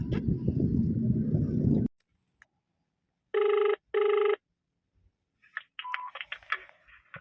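Outgoing phone call: a stretch of noisy background gives way to silence, then two even ringback tone bursts, followed by faint tones and clicks as the line connects.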